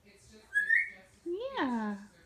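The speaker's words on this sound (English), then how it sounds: "Whistle, Misty." A five-month-old African grey parrot gives two clear whistles, a short rising note followed by a longer swooping, bending whistle, close and fairly loud with no talking over it.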